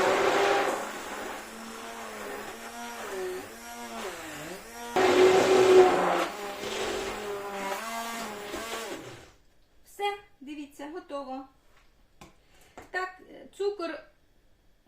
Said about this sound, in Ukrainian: І знову переб'ю погружним блендером.